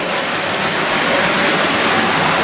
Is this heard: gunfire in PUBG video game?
no